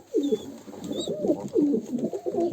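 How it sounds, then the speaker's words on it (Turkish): Kanat posta pigeon chicks cooing and burbling nearby in a village loft, a continuous soft warble of overlapping low coos with a few faint higher chirps. "Bunlar kanat posta yavruları."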